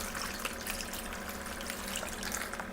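Pumpkin, eggs and milk pour into a mixing bowl with a continuous splashing, gurgling wash of liquid that is steady and close, with no talk.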